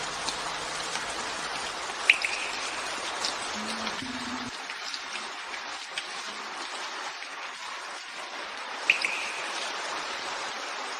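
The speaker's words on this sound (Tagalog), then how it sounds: "Umuulan ng malakas" Heavy rain falls in a dense, steady hiss of drops pattering on surfaces, continuous and close, with a low hum fading out early and a couple of faint chirps.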